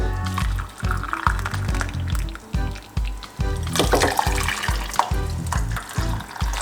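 Hot water splashes and gurgles steadily into a medium-sized pot, a bubbling, sloshing stream close by with some clattering.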